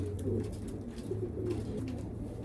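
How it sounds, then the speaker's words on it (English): Racing pigeons coo in low, soft repeated phrases, close and continuous over a dull loft background, with no talking. "Beautiful birds."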